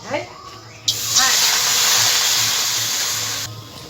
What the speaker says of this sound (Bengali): এবার কড়াইতে একটু জল দিয়ে দেবো।